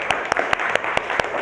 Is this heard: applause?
yes